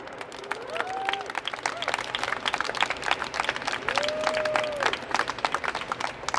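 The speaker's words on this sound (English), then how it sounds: "Please give yourselves a big round of applause." Outdoor crowd at a protest rally outside a government building applauds steadily, dense clapping with a few whistles rising over it, moderately near and sustained throughout.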